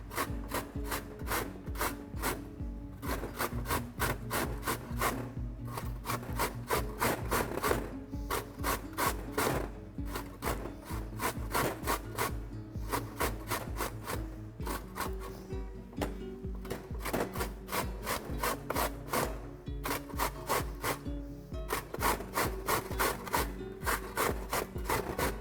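Three medium carrots rubbed by hand against a grater, a steady run of quick rasping strokes in bursts with brief pauses, close and moderately quiet.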